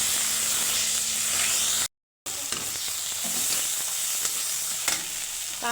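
Onion and tomato sizzle and fry in a pan for a ridge gourd dish, a steady bright hiss with stirring scrapes, briefly cut to silence before the sizzling resumes.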